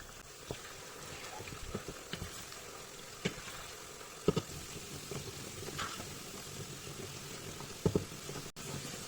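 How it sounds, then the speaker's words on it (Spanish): Potatoes slowly poaching in oil in a pan, giving a soft, steady bubbling hiss that stays faint throughout, with a few small pops and clicks scattered over it. "vamos a pochar las patatas"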